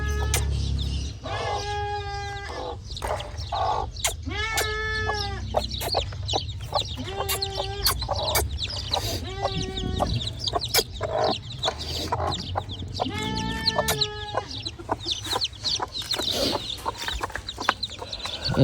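A hen clucks repeatedly among her small chicks, loud close bursts of clucking and squawks in an uneven rhythm, with faint cheeping and rustling between calls.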